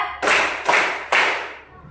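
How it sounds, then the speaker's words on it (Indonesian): A class claps a counted rhythm in unison before a lesson: three sharp, loud group claps spaced evenly about half a second apart, each ringing briefly before fading. "sebelum memulai pelajaran kita tepuk 1, 2, 3, 4, 5"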